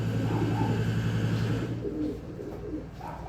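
Cooing from a young racing pigeon about 45 days old, a low steady murmur that fills the first half and then fades to softer, intermittent coos, with no talk over it.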